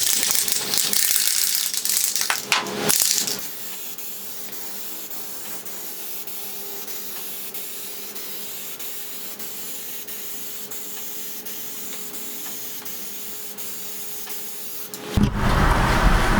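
A steady hiss of Plasti Dip aerosol spray coating a 1954 Ford truck, running continuously for about twelve seconds with brief bursts and handling noise at the start and end.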